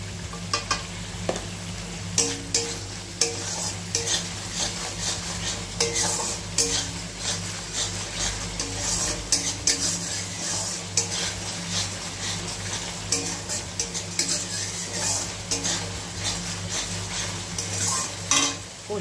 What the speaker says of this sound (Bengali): কষিয়ে নিই ভালো করে।